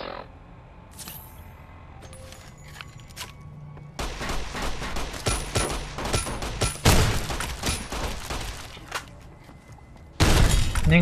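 Shotgun fire in Fallout New Vegas, with loud blasts and sharp cracks bursting in after a quieter stretch, then a final heavy burst at the end.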